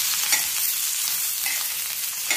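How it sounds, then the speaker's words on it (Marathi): Cumin seeds sizzling in hot oil in a pan, a bright continuous hiss and crackle close up, with small pops along the way and no voices. "आता ह्याच्यात थोडेसे जिरे घालायचे। तेल ऑलरेडी घातलेलं आहे"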